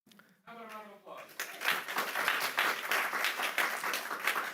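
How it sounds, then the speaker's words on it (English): A voice speaks briefly, then an audience at a culinary history talk on Revolutionary War soldiers' food breaks into applause. The clapping is moderately loud and steady, with distinct individual claps standing out. "How about a round of applause?"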